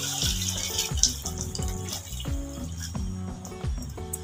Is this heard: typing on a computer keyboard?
no